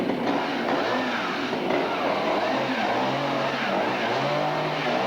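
A truck engine drones steadily in a scene from the 1986 horror film The Texas Chainsaw Massacre Part 2, a continuous mid-pitched motor hum with slight rises, fairly loud and with no speech.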